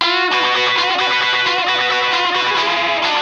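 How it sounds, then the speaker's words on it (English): A solo electric guitar plays with no reverb and no double-tracking or doubling effect, giving a loud, distorted, continuous run of sustained notes and chords. "So this is the guitar without the ADT effect."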